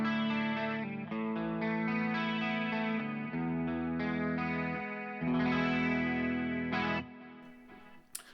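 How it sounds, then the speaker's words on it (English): An electric guitar played through a chorus effect on a Boss GX10 sounds alone, sustained shimmering chords changing every second or so, moderately quiet, ending with a short pluck. "So now we have a chorus sound"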